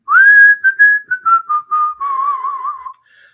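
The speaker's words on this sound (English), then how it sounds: "now our audience knows how good you are at whistling" A person whistles a short melodic tune alone, clear and close, with a long held opening note followed by quick bouncing notes and a wavering trill.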